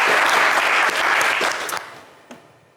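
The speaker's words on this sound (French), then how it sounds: "belle opération pour vous, on vous applaudit." Studio audience applause on the French TV game show Le Coffre Magic, a full burst of clapping that holds steady, then thins and fades out, ending in a last lone clap.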